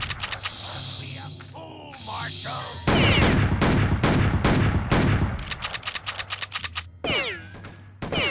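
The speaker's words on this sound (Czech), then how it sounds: "Tak, tam po mě hodně střílí" Rapid gunfire in the 1997 PC western shooter Outlaws, with bursts of loud crackling shots broken by short gaps, clicking mechanical sounds and occasional ricochet-like whines over several seconds.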